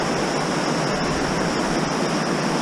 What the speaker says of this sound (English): now we're starting to get into some little waterfalls where the big boulders have fallen down